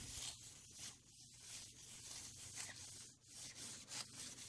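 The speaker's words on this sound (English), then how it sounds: "getting some delicate task wipes and some isopropyl alcohol just to rub down your PCB" A circuit board is rubbed down with delicate task wipes and isopropyl alcohol, giving soft, continuous close-up scrubbing and wiping with short pauses between strokes, quiet and without talking.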